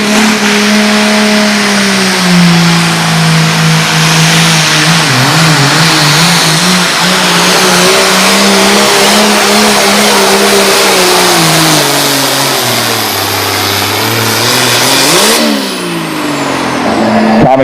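A Ford farm tractor in a pro farm tractor pull at the Page Valley Fair roars under a loud, sustained engine rev, its pitch rising and falling steadily before dropping near the end of the run.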